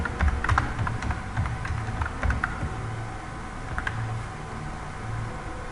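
Continuous typing on a computer keyboard while writing code, a brisk stream of fairly close key clicks with small bursts and pauses, no voices.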